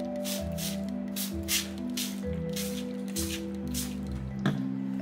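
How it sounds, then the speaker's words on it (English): A spray bottle mists water over slashed Vietnamese baguette (banh mi) dough in several quick, hissing bursts, close and fairly loud, with faint background tones between the sprays. "Spray the slashes with water."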